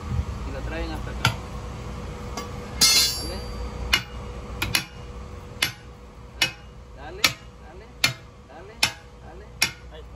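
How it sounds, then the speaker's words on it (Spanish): Hammer blows ringing on a metal bar at a tire repair shop, a dozen sharp clanks spaced roughly every second near the mic, with voices talking in the background between strikes. "Dale con el martillo."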